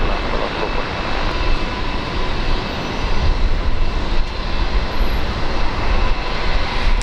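A fixed-wing aircraft roars loudly and steadily as it lands on runway 19 right at Brisbane Airport, a broad, close engine rumble filling the whole stretch.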